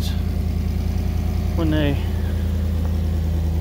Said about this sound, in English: Does sound like it might have an exhaust leak up here